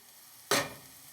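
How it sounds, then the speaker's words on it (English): Chopped bacon and garlic dropped into hot oil set off a sudden loud sizzle that flares up at once and then settles into a steady hiss as the pan is stirred. "we're gonna get it moving into the oil until it starts to sizzle a little bit."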